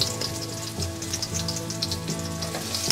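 Pre-boiled pork stir-frying in a hot pan, a dense continuous sizzle with crackling spits and light scraping as the meat is stirred, close and steady.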